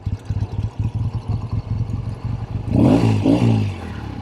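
Restored 1964 Triumph Bonneville T120 motorcycle engine idling with an even, pulsing lope for a couple of seconds, then revving up louder and rougher near the end, close and with no speech.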